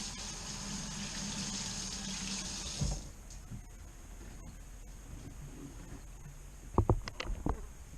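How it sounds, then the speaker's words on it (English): Running tap water pours loud and steady for about three seconds while hands are rinsed, then stops, followed by a few quiet drips and small knocks near a sink. "I'm going to rinse my hands off."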